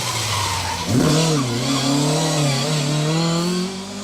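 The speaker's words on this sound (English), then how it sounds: "Car 44, David Ewan Jones and Neil Spires in their unarched Mark II. Road Rally spec car that." An unarched Mark II road rally spec car, car 44, passes at speed on a rally stage, its engine note climbing sharply with tyre squeal as it sweeps by close and loud, then eases away.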